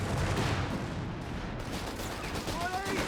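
Dense battlefield gunfire from the WWII strategy game Company of Heroes 3, with a continuous roar of small-arms fire and explosions layered over steady rumble, while a caster talks over it.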